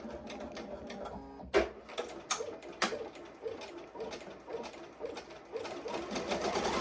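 A Ricoma EM-1010 embroidery machine stitches a patch, a steady rapid mechanical chatter at moderate level with a few sharper knocks and clunks, no talking.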